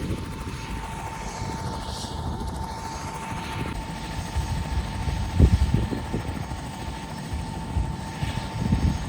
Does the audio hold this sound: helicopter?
yes